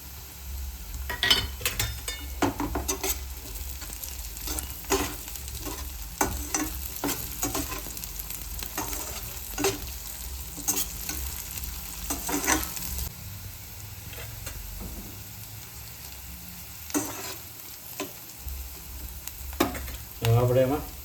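Chopped capsicum sizzles steadily in a hot pan for masala pasta while a spoon stirs it, loud and close, with repeated scraping strokes over a continuous frying hiss.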